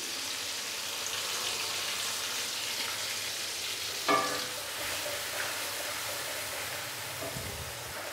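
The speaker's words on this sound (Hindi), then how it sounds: "सब्ज़ी मिर्चों का पेस्ट डालने के बाद मैंने इसको 2 से 3 मिनट के लिए अच्छे से भून लिया है" Green chili paste frying in a pan for Karachi-style nalli beef biryani, a steady close sizzle with a brief stirring clatter midway and no talking.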